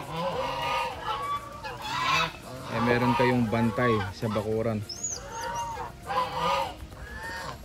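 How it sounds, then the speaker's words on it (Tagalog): Geese honking in a spacious backyard, kept as guard birds, their harsh calls rising between stretches of someone talking over them, with a higher bird call briefly near the middle. "Ang ganda yung may gansa."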